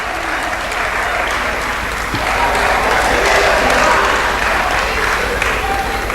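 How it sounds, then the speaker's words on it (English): An audience at a research meeting claps steadily for several seconds, a dense, loud wash of hands with crowd murmur mixed in, swelling slightly midway. "Oh, let us clap for them."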